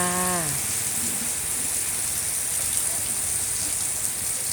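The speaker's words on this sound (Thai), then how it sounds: "หนาวเพราะว่าฝนตกค่ะ" Steady morning rain falls continuously in Phuket in a constant hiss, close and even, after a short tonal sound at the very start.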